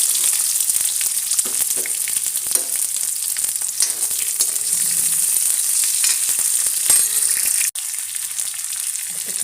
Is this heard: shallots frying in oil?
yes